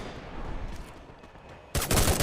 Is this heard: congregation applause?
no